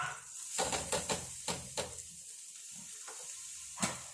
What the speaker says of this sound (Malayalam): നമ്മുടെ കഞ്ഞിയും തിളച്ചു